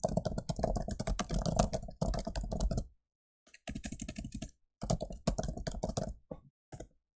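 Close, crisp typing on a computer keyboard to search for a book in a school reading system, coming in quick bursts of keystrokes separated by short silent pauses.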